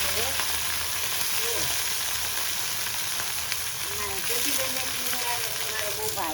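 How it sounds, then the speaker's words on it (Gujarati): Tempering spices for a tindora (ivy gourd) curry sizzle and crackle continuously in hot oil, a dense, even frying hiss close by, while faint voices murmur in the background. "કેવો સરસ વઘાર દે છે"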